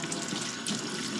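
Warm water runs from a tap over a performance air filter (K&N-style intake cleaner) being washed, a steady broadband splashing rush that fills the whole moment without speech.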